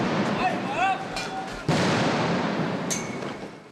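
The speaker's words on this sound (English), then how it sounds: "as the gunfire and the explosions became more frequent" Sharp distant bangs and booms of gunfire and explosions in Bangkok, a few sudden blasts over a murky background with faint shouting.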